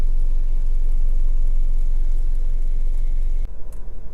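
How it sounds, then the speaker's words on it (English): A Honda Civic 1.8 i-VTEC engine idles loud and close with a steady, low drone and a fine, even pulsing. Near the end a click and a brief drop in level break up the hum. "engine's running as it has been throughout the video"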